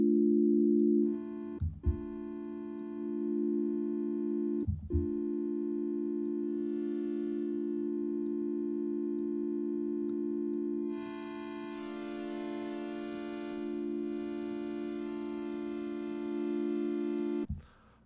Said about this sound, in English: God, I almost like just the sine wave.